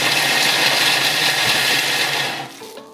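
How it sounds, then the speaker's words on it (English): A Thermomix TM7 grates cheese, making a loud, steady whirring and rasping blade noise close by that cuts off just before the end. "It's going to grate the cheese now."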